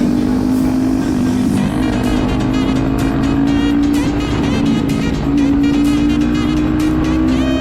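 A loud, continuous engine roar from a Kawasaki ZX-10R sport motorcycle revving steadily up close, with a strong droning exhaust tone and no letup.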